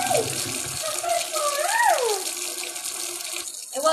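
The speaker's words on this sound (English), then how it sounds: "Let's get some fresh water to the puppy and the kitty." A tap runs fresh water at home for a puppy and a kitten, a steady close gushing stream that cuts off briefly near the end, with a voice sounding over it.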